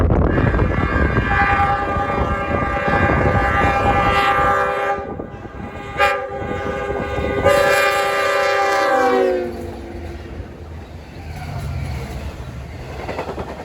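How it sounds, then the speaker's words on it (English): Locomotive 8772 sounds a long, loud horn sequence while bearing down on a grade crossing in Brightwaters, with the rumble of a passing train beneath and a brief break partway through before the horn resumes and fades. "8772 is first with a nice horn show"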